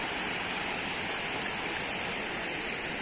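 Waterfall in Sylhet giving a steady, broadband rush of falling water, even and unbroken, heard alone at moderate distance with no voices.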